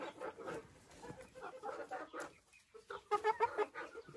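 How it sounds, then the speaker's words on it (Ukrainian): A Faverolles hen clucks in a series of short, soft, uneven calls, close by and quiet, with a few louder clucks toward the end. "Це курочка фавіроль."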